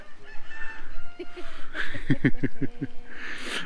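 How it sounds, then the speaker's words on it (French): A chicken clucks in a quick run of short, close calls, with other bird noises faintly around it. "Ah, c'est une poule, c'est pas un coq."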